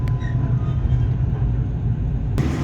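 Tegal Bahari economy passenger train running at dusk after leaving Jatibarang station, a steady low rumble and rolling drone heard from inside a carriage, fairly loud and continuous, with a brief sharp burst near the end.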